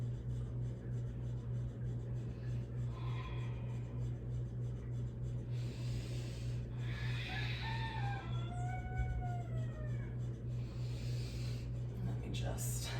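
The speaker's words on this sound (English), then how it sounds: "That rooster's a little out of control." A rooster crows several times outdoors, its rising and falling calls clear but set back at a distance over a steady low hum, with no talk over it.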